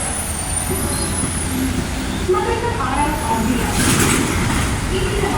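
Heavy congested road traffic in Quezon province, with buses and trucks rumbling close by in a continuous roar, a hiss like an air brake partway through, and a voice talking over the noise.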